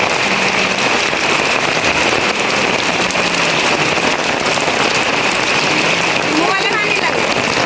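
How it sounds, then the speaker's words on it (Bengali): Heavy rain pours down steadily in a village, whipped by strong wind, a dense unbroken hiss that fills the whole stretch at close range, with faint voices now and then beneath the downpour. "বৃষ্টি শুরু হয়ে গেছে, ফুল পারতে পারতে প্রচন্ড বৃষ্টি চলতেছে।"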